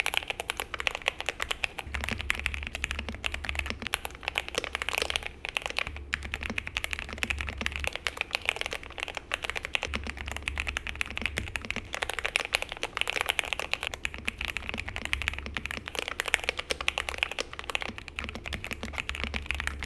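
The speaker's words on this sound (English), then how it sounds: "The GMMK Pro is noticeably louder than the K75 and also has that crackly PE foam sound." Steady, rapid mechanical keyboard typing on a GMMK Pro with PE foam, clacky keystrokes and a slightly crackly texture, continuous and close throughout, no voices.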